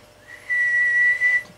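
A person whistles into a microphone connected to a D&A Phantom 500 classic 12 tube dual power linear amplifier, producing one steady, clear, close tone held for about a second with a short second note after a brief break.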